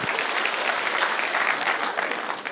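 An audience applauds for Jesus at a political gathering of Kamba leaders in Karen: dense, loud, continuous clapping from many hands that keeps going steadily without a break.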